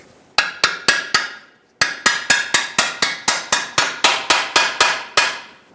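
Repeated hammer blows drive a 19mm socket onto a control arm part on a 2018-2023 Subaru Crosstrek, with about eighteen sharp metallic taps in two bursts separated by a short pause, loud and close with no talking.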